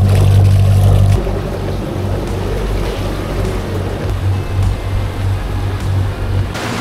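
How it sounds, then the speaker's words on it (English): A Yanmar 4JH45 marine diesel engine runs on a catamaran during a sea trial, giving a steady low drone with a faint throbbing rhythm, close and continuous, with water and wind noise around it. "a sea trial of the Steinbauer power modules for the Yanmar 4JH45 marine diesel engine."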